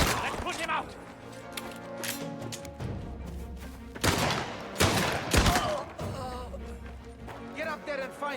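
Gunfire from the video game Mafia: The Old Country: loud, sharp volleys of shots and heavy impacts come in bursts, mixed with shouting voices.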